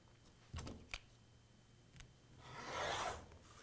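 A single rasping swipe of a blade slicing through T-shirt quilt fabric along a ruler to cut a 1.5 inch strip, close and fairly quiet, preceded by a few faint knocks and taps.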